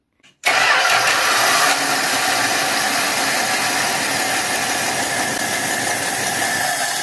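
A carbureted Dodge Dart engine with a freshly set choke starts abruptly after a brief silent pause, then settles into a loud, steady idle close by, with no talking over it.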